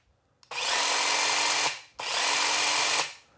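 A Makita power tool runs in two steady, smooth bursts of about a second each, starting and stopping cleanly with a short pause between them.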